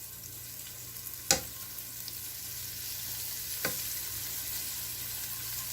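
Beef sears in a pan with a soft, continuous sizzle and two sharp ticks or pops from the meat.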